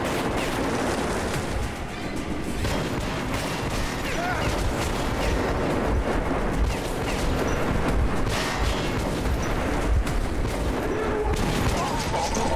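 Gunfire from the Metro 2033 Redux video game, a dense and continuous roar of shots and blasts that stays loud for the whole stretch, with no clear gaps between bursts.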